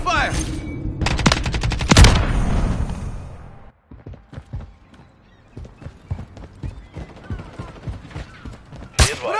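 Gunfire in Call of Duty Modern Warfare III multiplayer on PS5, loud bursts and sharp cracking shots near the start, then a quieter stretch of scattered clicks and thuds before a final loud burst.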